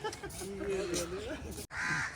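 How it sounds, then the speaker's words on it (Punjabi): Crows cawing near a Sikh gurdwara at Sri Fatehgarh Sahib, harsh repeated calls mixed with someone talking throughout, then a brief cut and more calls with a voice. "ਕਾਵਾਂ ਨੂੰ ਵੇਖ ਕੇ ਕਾਂ ਰੋਲਾ ਪਾਉਣ ਲੱਗੇ"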